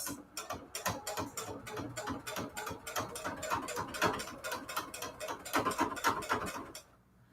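A rattly toy sewing machine with plastic parts stitches nonstop in a fast, even mechanical chatter of clicks and whirring gears. It sits up close, with no voices, and stops abruptly near the end.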